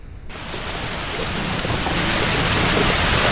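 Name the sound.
rain falling with thunder at a landslide site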